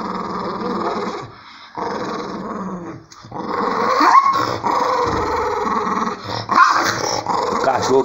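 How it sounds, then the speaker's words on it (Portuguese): A dog that dislikes baths growls repeatedly while being washed, low rumbling growls broken by short pauses and occasional whimpering squeals, close and fairly loud, with a little talking at times. "Cachorro que não gosta de tomar banho."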